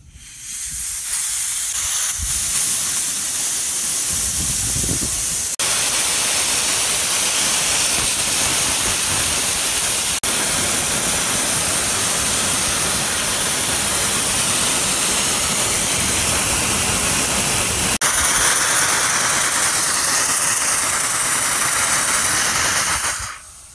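A tank bleed valve cracked open with a wrench blows off pressure in a loud, steady hiss of escaping gas and liquid spray that runs continuously close by, with no talking.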